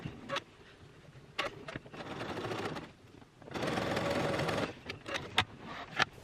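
A sewing machine stitches a line of gathers on a Vogue 8577 dress bodice, running in two short bursts of steady whirring separated by a pause, with soft fabric handling and clicks in between.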